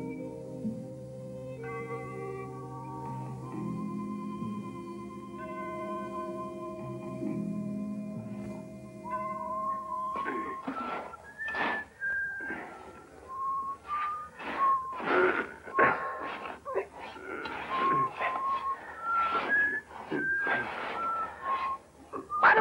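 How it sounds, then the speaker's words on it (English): A man whistles a slow tune alone, clear sustained notes at first, then a more broken, wavering melody over faint background rustle and movement, near and moderately loud. "Why don't you stop that damn whistling?"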